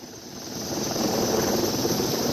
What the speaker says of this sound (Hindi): हेलीकॉप्टर के सहारे रेस्क्यू किया जा रहा है